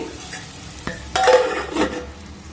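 Eggplant curry with jackfruit seeds is stirred in a pan, a brief close scrape and clatter of the spoon over soft sizzling, with a couple of louder strokes.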